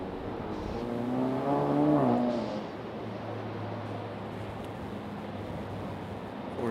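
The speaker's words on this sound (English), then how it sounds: "Four-cylinder Mustang down there." A four-cylinder Ford Mustang drives past near an airport taxiway, its engine note rising to a brief peak and then fading into a steady low hum. A distant rumble continues underneath, and no one speaks.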